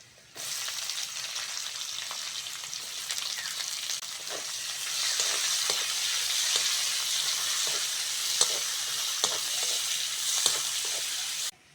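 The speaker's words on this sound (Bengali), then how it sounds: "পেঁয়াজটা হালকা করে ভেজে নিয়েছি" Chopped onion with crushed garlic fries in a pan, a steady loud sizzle broken by stirring scrapes and small pops throughout, with no voices.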